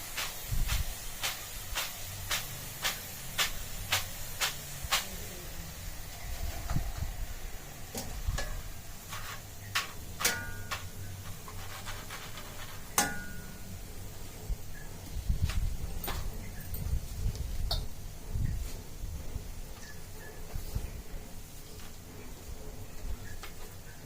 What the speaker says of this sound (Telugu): ఇప్పుడు కరివేపాకు వేయించుకుందాం